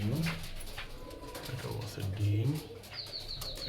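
Pigeons coo softly in a pigeon coop, low throaty calls mixed with bird chirps beneath nearby people talking.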